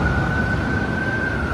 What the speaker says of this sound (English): The ambulance cannot drive with high speed through the streets.